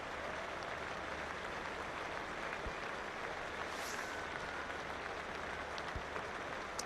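Steady, even clapping from a distant cricket crowd at an England versus West Indies match, a soft continuous patter that holds level throughout with no voices standing out.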